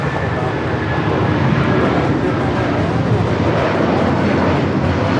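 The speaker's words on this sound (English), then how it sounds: "This is United Airlines 1950 taking off to Newark on the 757-200" A United Airlines Boeing 757-200 taking off at Los Angeles International, its jet engines roaring as a dense, loud, continuous wash of sound that holds steady at full power.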